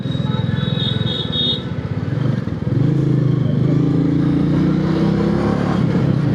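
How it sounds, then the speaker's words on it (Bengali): A second-hand Hyundai Santro is driven hard, its engine droning loudly and nearby, with a buzzy rev that climbs after a brief dip. A faint whine and clatter sit within the steady hum. "বেশ টেনে টুনে চালানোর চেষ্টা করছে স্যান্ট্রোটাকে।"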